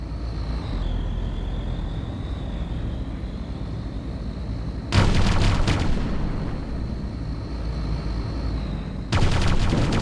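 Artillery bombardment in the strategy game Ground Control: two bursts of heavy, rumbling blasts about four seconds apart, loud and close, over a steady droning engine hum with a faint whine.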